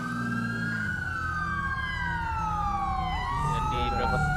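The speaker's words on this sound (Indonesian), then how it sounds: "kalau denger sirine, tolong dimengerti ya, ini Ada pengejaran" A wailing police siren in GTA V sweeps up and down continuously, loud and close, with voices talking underneath.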